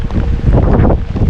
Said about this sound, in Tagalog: hindi lang yung lakas ng hangin kasi malakas talaga yung hangin